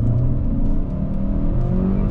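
A Lada Vesta SW Cross with automatic transmission, or a Chery Tiggo 4 Pro, is driven in sport mode and accelerates hard, giving a loud, close engine drone with rising tonal whine and steady road roar throughout.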